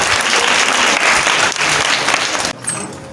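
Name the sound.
audience applauding after a speech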